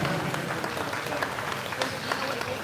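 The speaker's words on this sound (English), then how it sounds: "give these exhibitors a big round of applause for working with these pigs this morning" An audience claps for 4-H and FFA exhibitors after a swine show at a county fair, a steady, moderately distant patter of applause sustained throughout.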